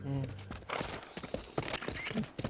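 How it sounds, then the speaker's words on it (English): Horse hooves clip-clop in Metal Gear Solid Peace Walker, a light, irregular patter heard beneath a voice talking throughout. "How's the horse doing?"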